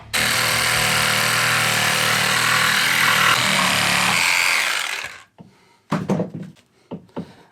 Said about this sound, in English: So I'll just take a Sawzall and cut right in between, and I'll cut the shaft off of each nail in between the boards.